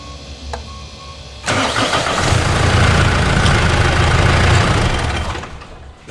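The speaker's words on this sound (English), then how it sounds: "I'm just going to give the car a run, start that up, and just get the pump running for a little bit" A car engine cranks and catches, then runs steadily with a coolant-flush pump going. There is a loud, sustained rumbling idle for several seconds before it drops away near the end, and no talking over it.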